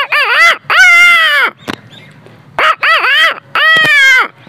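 A voice mimics a rooster crowing, with a short call followed by a long drawn-out crow, a brief gap, then another rising crow sequence, loud and close with no other talk.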